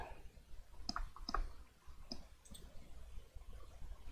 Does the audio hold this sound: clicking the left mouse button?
yes